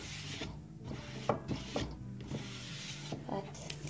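Cloth rubbing and wiping Unicorn SPiT stain across a wooden surface, a steady close scratchy rasp with a few sharper strokes over about four seconds, under a faint low background hum.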